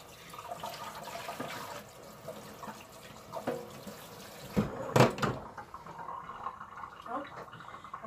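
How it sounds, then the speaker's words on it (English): Water runs from a tap as fingers are rinsed beneath it, a soft splashing stream with a brief louder gush in the middle while someone talks. "Rinse my fingers."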